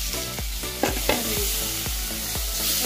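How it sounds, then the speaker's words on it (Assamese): Tomatoes and ginger paste frying in a pan for a banana flower dish, a steady sizzle broken by several sharp scrapes and knocks of a spoon stirring at regular intervals, close and clear with no talk. "এতিয়া লৰাই পেলাই অকণমান ঢাকি দিম"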